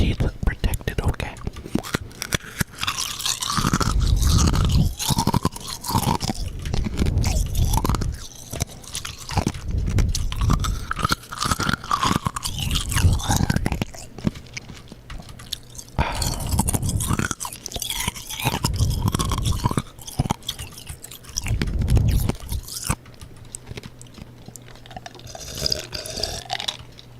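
Ice being crunched and chewed close to the mic in irregular bursts, with whispered talk and wet gulping sounds between bites.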